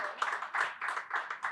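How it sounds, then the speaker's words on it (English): An audience claps at a book launch, a brief, faint patter of applause in a hall with no talking. "A round of applause for Rakesh ji."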